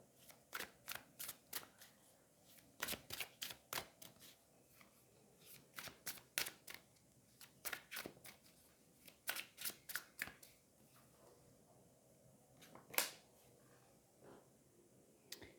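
Fallen Angels oracle cards riffle-shuffled in repeated quick bursts, sharp papery clatters grouped in rapid runs with brief pauses between, close and clear in a quiet room.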